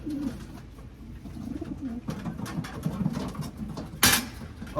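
A racing pigeon coos nearby in low, repeated throaty phrases, with a brief rustle or flutter near the end.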